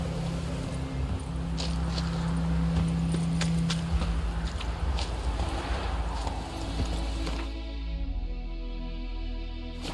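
Horse hooves clip-clop at a steady gallop in The Witcher 3 as a rider spurs the mount along, the hoofbeats loud and continuous over a low ambient game soundtrack, thinning toward the end.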